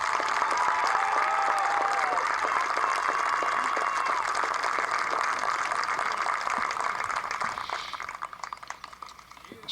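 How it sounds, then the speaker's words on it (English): Crowd applause fills the stands at a Loudon vs Sweetwater high school baseball game during a pregame ceremony honoring a young fan, a loud, sustained wash of clapping that thins slightly toward the end. "Everyone, would you please stand and give a big round of applause to a true Redskin,"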